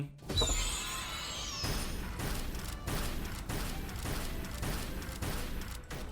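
Rapid bursts of video-game gunfire from an upgraded gun in King Legacy, loud, dense repeated volleys in several clusters across the clip with mechanical clicks between them.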